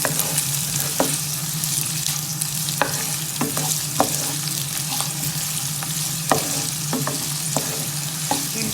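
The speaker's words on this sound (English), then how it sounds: "We'll fry onion till it changes color." Chopped onion fries steadily in a pan, a continuous close sizzle with a spatula scraping and stirring through it every second or so; no voices.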